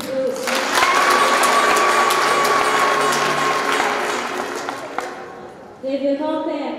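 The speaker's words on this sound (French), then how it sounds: "Applaudissions pour eux aussi." Applause from the congregation at a confirmation mass in a Chad parish church, a steady loud clatter of clapping that swells and then thins out, with a sustained tone and some voices near the end.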